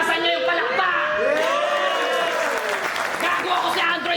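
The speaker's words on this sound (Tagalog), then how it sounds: "Lakasan niyo yung palakpak." An audience at a rap battle claps and cheers loudly and without a break, with shouting and whoops mixed into the roar and voices talking over the applause.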